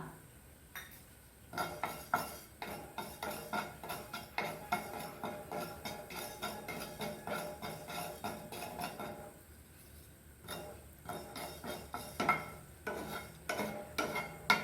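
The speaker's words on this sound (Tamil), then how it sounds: "வெந்தயம் கொஞ்சம் செவக்க வறுக்கணும் வாசனை வர்ற அளவுக்கு வறுக்கணும்" Fenugreek seeds being roasted in a pan for mango pickle, with a spoon stirring and scraping in a steady rhythm of light metallic clinks and taps, close up.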